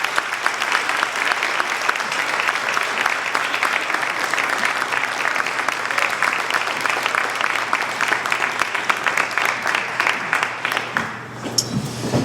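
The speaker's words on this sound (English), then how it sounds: "please give them a large round of applause" Steady, dense applause from an audience at an evening award ceremony fills the room for about eleven seconds, loud and continuous, then thins and fades near the end.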